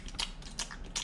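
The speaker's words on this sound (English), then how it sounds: "I don't know why it's so much more aggressive on camera than it is me chewing it" Gum is chewed close to a GoPro camera: three wet, squishy bites land at a steady rhythm, loud and intimate against a faint background.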